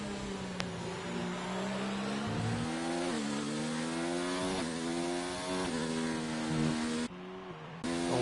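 F1 race cars lapping the Australian circuit in an F1 esports video game, high whining engines rising and falling through gear shifts with overlapping cars passing, loud and continuous, with no talk.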